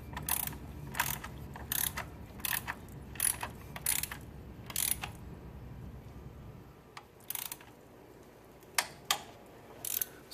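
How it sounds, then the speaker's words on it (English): Torque wrench tightening valve cover bolts on a 2008 Toyota Camry 2.4L, a series of sharp ratcheting clicks in short repeated bursts over a low steady background hum that drops away partway through. "when you're torquing your bolts, you want to go in and out"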